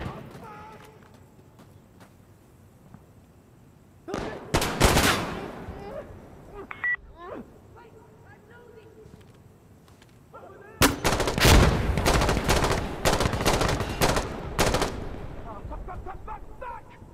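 Insurgency: Sandstorm firefight with close gunshots and rapid volleys in two heavy bursts, scattered distant shots between them, and a voice speaking nearby.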